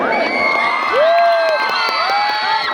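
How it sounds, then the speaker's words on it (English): A crowd at a youth festival cheers, with whoops and shouts rising over steady broadband crowd noise that holds for the whole stretch and swells slightly midway. "can we have a big round of applause for all our participants"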